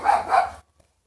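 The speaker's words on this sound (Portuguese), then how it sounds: "Cachorro latindo." A dog gives two quick, loud barks close by, then falls silent.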